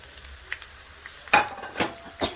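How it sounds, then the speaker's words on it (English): Peppers, pepitas, almonds, raisins and tortilla pieces sautéing in a pan for chicken mole, a soft sizzle punctuated by a few sharp stirring scrapes and clatters up close. "I'm putting everything, gonna saute everything together until the tortilla is nice and golden."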